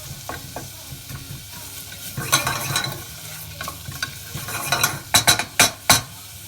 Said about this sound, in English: we're just going to sweat these onions, so just a low to medium heat for about 5 minutes,